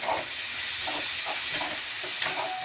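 Onion sautés in a small amount of oil in a pan for a Rajma curry, a soft, continuous hiss and sizzle with faint stirring scrapes recurring every half second or so, close by and with no speech.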